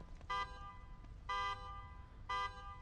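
A car alarm in the horror game The Evil Within 2 honks in three regular bursts about a second apart, moderately distant and repeating steadily.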